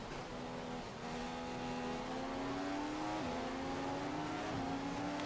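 A Formula 1 car engine in the F1 2015 racing game, screaming at high revs in a sustained, close whine that climbs steadily with brief dips at gear changes, alone with no talk.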